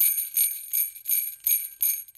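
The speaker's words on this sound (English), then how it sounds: "the sleigh bells," Sleigh bells shaken in five even bursts, a bright metallic jingle with a faint thump at each shake, close and alone with no voices.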